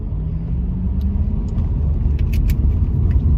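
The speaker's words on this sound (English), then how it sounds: "I'm driving back to the shop right now" Steady, loud engine and road rumble heard from inside a moving car, a constant low drone with no talking.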